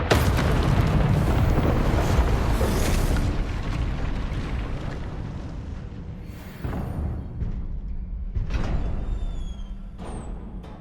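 A Confringo blasting spell from the Hogwarts Legacy video game bursts in a loud, rumbling explosion that fades over several seconds, with smaller crackling blasts following.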